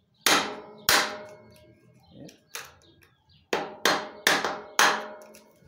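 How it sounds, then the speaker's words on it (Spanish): Sharp, dry hammer blows knocking out a threaded bicycle pinion, seven distinct loud metallic strikes spaced unevenly, close up with short ringing decay and no talk. "Golpes secos se le pega."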